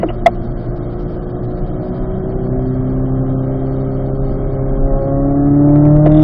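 A race car lapping a track, its engine a steady close drone that slowly climbs in pitch and grows louder as it accelerates, with no voices over it.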